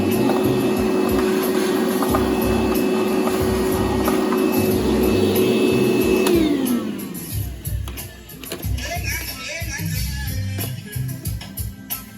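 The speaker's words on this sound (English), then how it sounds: "I just vacuum out the whatever debris in there" A vacuum cleaning out the engine air filter housing of a 2008 Acura TL Type S whines steadily at close range, then its pitch drops as it shuts off, leaving clattering, rustling handling noises.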